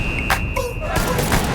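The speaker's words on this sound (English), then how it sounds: "Hey, shooting out there." Bursts of gunfire sound from outside, a volley of sharp cracks with a brief pause between clusters, heard through a room with people's voices.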